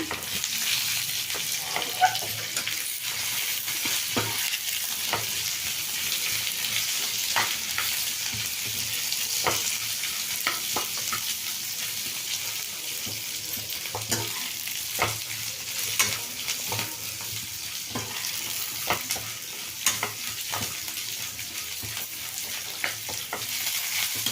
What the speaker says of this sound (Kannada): ತೆಂಗಿನಕಾಯಿ ಬೆಳ್ಳುಳ್ಳಿ ಶುಂಠಿ ಮೆಣಸು ಮೆಣಸಿನ್ಕಾಯಿ ಹಾಕ್ಕೊಂಡಿದ್ದೀನಿ ಇದೊಂದು ಸ್ವಲ್ಪ ಫ್ರೈ ಮಾಡ್ಕೊಳ್ಳೋಣ